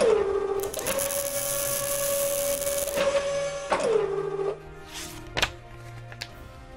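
A plastic injection moulding machine runs in a factory making plastic parts, giving a sustained mechanical whine with a steady tonal hum, broken by sharp clunks and shifts in pitch as the cycle proceeds.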